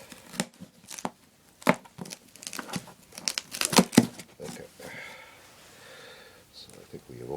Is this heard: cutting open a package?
yes